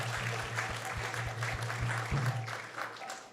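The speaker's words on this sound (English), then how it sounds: "So let's give them a big round of applause too." Audience applause follows a spoken devotional talk, steady clapping from a gathered crowd lasting a few seconds over a constant low hum, fairly quiet and continuous.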